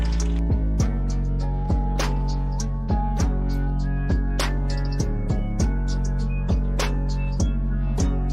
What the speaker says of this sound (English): just drain it now